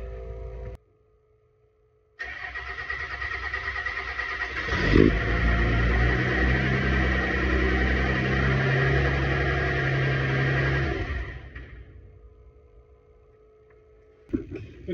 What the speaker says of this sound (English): Now I got to crank it over until I start getting fuel out of the lines